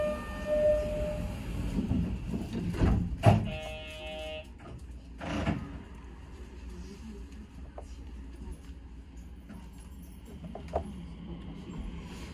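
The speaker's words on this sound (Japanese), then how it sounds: "扉が閉まります。" Doors of a Nishitetsu Tenjin-Omuta Line limited express train to Omuta slide shut with a couple of heavy thuds inside the rumbling carriage, beside a short electronic chime tone.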